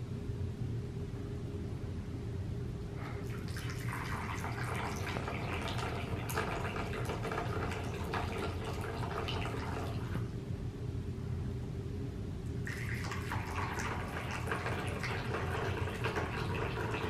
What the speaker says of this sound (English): All right, so now we're ready to pour.